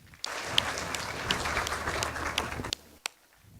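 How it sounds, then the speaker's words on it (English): Audience at the 2013 SOYA Awards gala gives footballers a steady round of applause, dense clapping close and loud for about two and a half seconds, then breaking off into scattered claps and quiet. "I request you to join me in giving them a round of applause"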